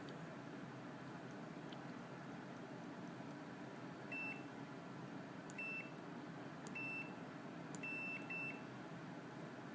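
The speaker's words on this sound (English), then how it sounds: "I've just got a multimeter here. Continuity meter. I'll just test the continuity of it, like you can hear that there." Continuity beeps from a multimeter tester, several short high electronic tones at about 4, 5.5, 7 and 8 seconds over steady background hiss, with no talking.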